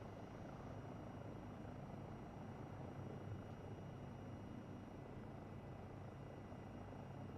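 A helicopter engine in a flight simulator game drones steadily and faintly, a constant rotor and turbine hum with no talk.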